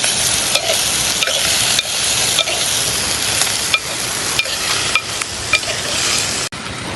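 Odisha-style dried goat meat curry sizzles steadily in a pan, a loud continuous hiss broken by regular clicks and scrapes of stirring.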